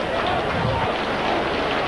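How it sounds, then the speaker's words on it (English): The South Stand crowd at a rugby league match between Leeds and Castleford gives distant, steady applause, heard as a broad even roar of many hands with no distinct individual claps. "And applause there from the South Stand crowd"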